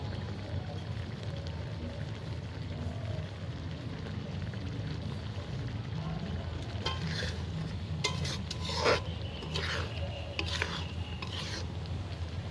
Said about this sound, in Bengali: হালকা করে নাড়িয়ে নেব